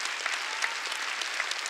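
Congregation applauding during a Wednesday worship service at a church, a steady broadband patter of many hands held at a fairly even level throughout, fairly distant and diffuse.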